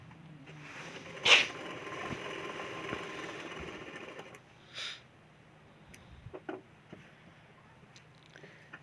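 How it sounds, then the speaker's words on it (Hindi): A sewing machine stitches along the edge of a katori blouse, a steady close whir running for about four seconds before stopping, followed by a few light clicks and handling taps. "फिर उसके बाद सिलाई कर देना है किनारी में।"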